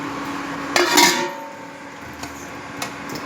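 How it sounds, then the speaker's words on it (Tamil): Fried gulab jamun go into a pot of sugar syrup and get stirred. A spoon gives a brief burst of clattering metal against the pot, followed by a few sparse, sharp clinks over faint background noise. "இப்போ நம்ம இதுலேருந்து ஒவ்வொரு பீஸாக எடுத்து இந்த சக்கரை பாகில் போட்டு கிண்டி விடுங்க"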